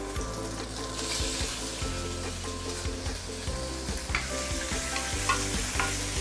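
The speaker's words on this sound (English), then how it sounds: "And then I'm going to fry my mushroom for a while." Mushrooms fry in garlic oil with a steady crackling sizzle, heard close under a persistent low droning hum and faint intermittent stirring.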